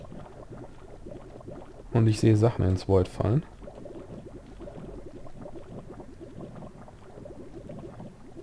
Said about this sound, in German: Ja, ich höre es näher blubbern.